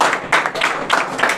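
Audience clapping to welcome a visiting team at a village school education event, a brief uneven burst of hands with distinct rhythmic pulses at moderate level.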